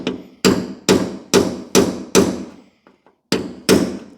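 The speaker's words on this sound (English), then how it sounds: "So I'm just going to chisel that LED off there, and hopefully we can just bridge the connections underneath" A carpenter's hammer strikes repeatedly to knock an LED off the backlight strip of a 50-inch Kogan LCD smart TV, eight sharp, loud, close blows at a steady pace with a short pause before the last two.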